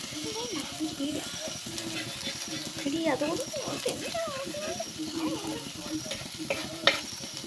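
Chicken gravy fries in a pan with a steady sizzle and scraping stirring strokes while children talk close by over the cooking.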